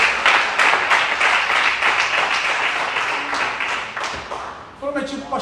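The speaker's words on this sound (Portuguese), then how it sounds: "Eu gostaria que você desse uma salva de palmas ao Senhor." Church congregation breaks into a dense, sustained round of applause that fills the hall, tapering slightly near the end as a voice begins speaking over it.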